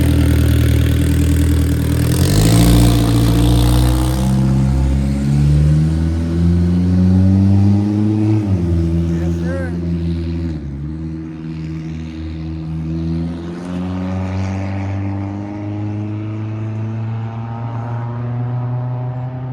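A fully built Mitsubishi Eclipse driving off, its engine droning loud and close, pitch climbing with each gear then dropping at the shifts as it pulls through several gears, no talk.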